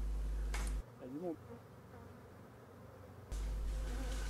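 A honeybee swarm settled in a small nucleus hive gives off a faint, soft buzzing beneath a low background hum that cuts in and out.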